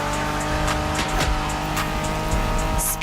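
A 1990s Honda NSX sports car drives in the racing game The Crew Motorfest, its engine holding a steady, loud, continuous drone with slight pitch shifts and a brief tire squeal near the end, with no talking.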